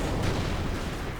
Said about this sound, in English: There are anti-tank grenades, and now there's a Panzer strike in the church.